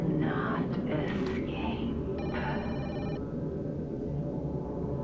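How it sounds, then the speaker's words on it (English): A telephone rings in Project Zero: Maiden of Black Water, a faint electronic ringtone with short repeated chirps over a dense, murky low ambient drone, with no talk heard. "I just gotta answer the phone"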